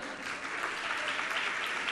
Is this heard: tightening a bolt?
no